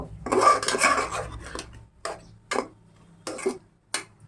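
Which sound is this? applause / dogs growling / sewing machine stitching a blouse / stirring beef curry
stirring beef curry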